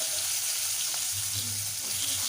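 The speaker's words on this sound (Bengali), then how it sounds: "মাছগুলো আমি তেলে দিয়ে দিয়েছি, এবার ভাজা পর্যন্ত অপেক্ষা করতে হবে।" Rohu fish pieces fry in hot oil, giving a steady, fairly quiet sizzle that runs without a break, with faint low clinks or stirring noises underneath.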